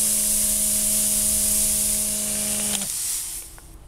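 An Aro MH9 half-ton air-powered chain hoist runs with a strong pneumatic hiss and a steady tonal whine, then cuts off near the end, leaving fading air noise; close and loud.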